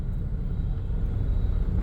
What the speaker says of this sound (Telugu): Full traffic. నాగార్జున సర్కిల్ పైనుంచి వస్తుంటే